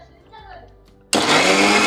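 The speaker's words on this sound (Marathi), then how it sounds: "आणि आता हे मी मिक्सरला फिरून घेते." Mixer grinder whirring into action on grated coconut with cumin, starting abruptly after a short quiet pause and running at a loud, steady roar to the end.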